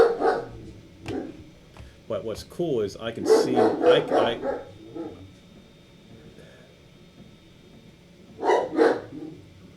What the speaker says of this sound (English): No, he's barking out the window.